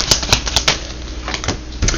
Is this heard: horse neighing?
no